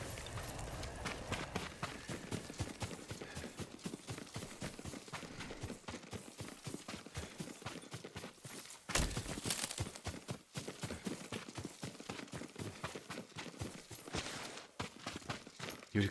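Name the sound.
horse hooves, from video game Ghost of Tsushima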